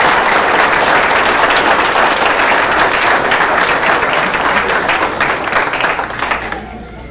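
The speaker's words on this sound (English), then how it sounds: "if we would give these gentlemen a round of applause for saving some of our lives" Loud, dense applause from an audience at a fire department pinning ceremony, sustained clapping that holds steady for several seconds before tapering off at the end.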